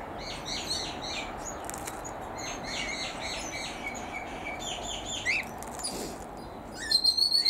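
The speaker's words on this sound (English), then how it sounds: "Those birds in the background are miners, Indian miners." Indian mynas call in the background of an outdoor aviary in cold weather, giving repeated bright chirps and whistles that rise and fall over a steady ambient hiss, with a few louder bursts near the end.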